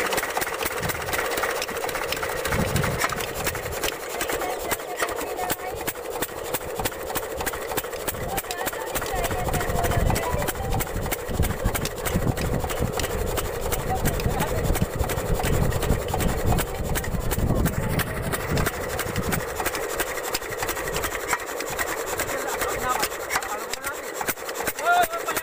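Homemade water-driven engine running continuously nearby, a dense rattling, rasping mechanical churn with rapid regular ticking, with people talking intermittently over it.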